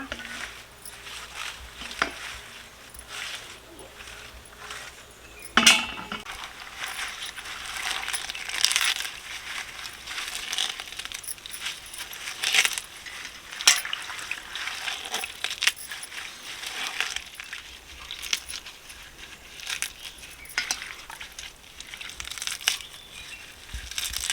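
Washed leaves being crushed and squeezed by hand in water, a long run of close, irregular crunching, crinkling and squelching with occasional sharper snaps, no voices.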